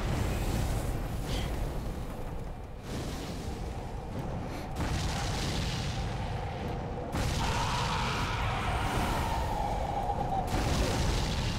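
Fire attacks in the Dark Souls mod Cinders come as a dense roaring, whooshing rumble with repeated heavier bursts across nearly twelve seconds of loud, sustained noise.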